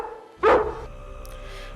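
A single dog bark, fairly loud and close, rises out of a quiet background as a lone sound effect, followed by a faint low murmur.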